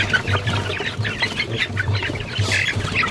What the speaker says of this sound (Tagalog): Yan po yung ating mga sisiw, malalaki na rin.